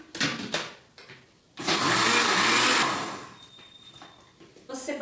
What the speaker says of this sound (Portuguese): Você bate só um minutinho, só para misturar bem esses ingredientes